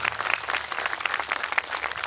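Audience applause at a live music show, a short burst of steady, fairly close clapping from a small crowd with no talking over it.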